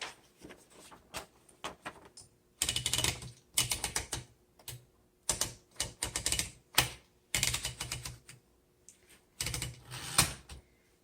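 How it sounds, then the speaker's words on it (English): Typing on a 1951 Underwood Finger Flite manual typewriter, with clacking keystrokes in quick irregular bursts and short pauses between, close and crisp. "let's go ahead and do a typing demo"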